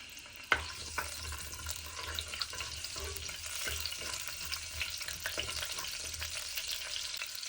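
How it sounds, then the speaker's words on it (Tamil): Cumin seeds and a piece of cinnamon sautéing in hot oil give a steady close sizzle with faint crackles, opened by a sharp clink and dotted with light stirring scrapes, no voices. "கொதிச்சு வர எண்ணெய்க்குள்ள ஒரு தேக்கரண்டி சின்ன சீரகமும் ஒரு துண்டு கருவேப்பட்டையும் போட்டு வதக்குவோம்"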